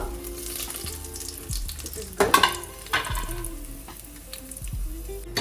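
Spices and onions fry in ghee for chicken biryani, a steady low sizzle broken by bursts of stirring and scraping as the pan is worked, with a voice talking lightly over the cooking.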